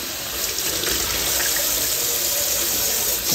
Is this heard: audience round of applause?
no